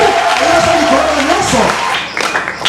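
A church congregation cheers and applauds loudly in a dense, sustained crowd roar. The noise thins out toward the end, and a voice speaks over it.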